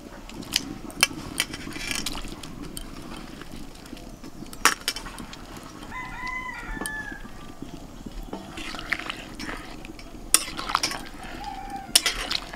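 Fried vegetables tipped into a pot and stirred, with scattered clinks and scrapes of a utensil against metal over a faint, low sizzle, close by with no talk.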